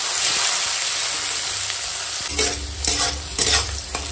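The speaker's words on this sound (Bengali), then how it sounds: "উচ্ছেটা ভেজে নেবো" Bitter gourd frying and being stirred in hot oil in a home kitchen pan, a steady loud sizzle with a few scraping stir strokes near the end.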